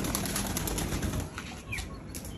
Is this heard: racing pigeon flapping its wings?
yes